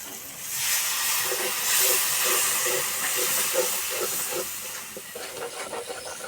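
A little water splashed into hot frying spice masala for a moong dal and pointed gourd curry sends up a loud, steady hiss of steam that swells over the first seconds, then softens and fades toward the end, with no talking.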